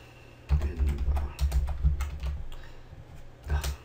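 Rapid bursts of typing on a computer keyboard during a Minecraft Feed The Beast modded play session, loud, close clicks in clustered runs with brief pauses between.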